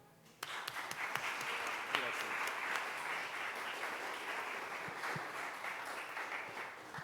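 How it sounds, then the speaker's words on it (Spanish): A crowd at a book presentation bursts into applause after a brief quiet start, sustained dense clapping that holds evenly through to the end. "Un aplauso."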